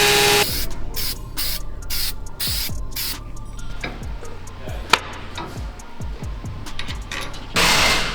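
Spray can painting a sleeved sway bar rod for a Baja race vehicle, several hissing bursts of aerosol spray separated by short pauses, with rattling and clicking between sprays.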